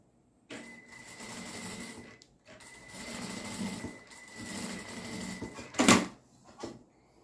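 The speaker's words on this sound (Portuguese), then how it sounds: "Agora é só fazer a costura." A sewing machine stitches an EVA foam panel in two long runs of even whirring motor and needle clatter, separated by short pauses, with a sharp clunk near the end.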